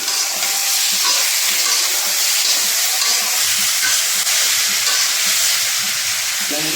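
Chopped tomatoes added to a pan of eggplant curry cooking in Demra: loud, steady sizzling and frying hiss throughout, with faint stirring and soft talk underneath.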